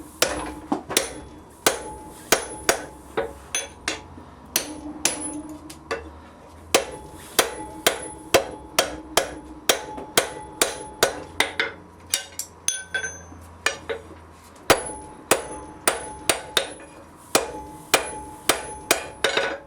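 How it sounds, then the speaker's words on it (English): Steady hammer blows ring on an anvil as a blacksmith rolls the hinge area of forged tongs over the anvil edge, with a drift left in the eye; roughly regular strikes with bright metallic ringing, no talk. "I'm going to roll the hinge area over the edge of the anvil to form the third offset"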